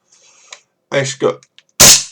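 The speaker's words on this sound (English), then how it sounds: "As you can see, it's got a really nice blowback action to it." A WE Browning Hi Power gas blowback airsoft pistol running on green gas gives a few soft mechanical clicks and rattles, then one sharp, loud, close-up report near the end.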